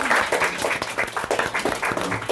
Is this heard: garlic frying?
no